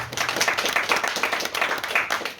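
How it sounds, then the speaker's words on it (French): A modest audience claps for a couple of seconds, the individual hand claps distinct and close, forming a lively, slightly uneven patter. "Il faut l'applaudir encore."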